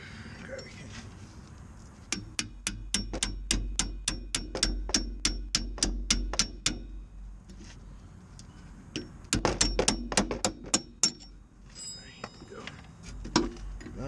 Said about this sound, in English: It sounds loud because, of course, it's the hammer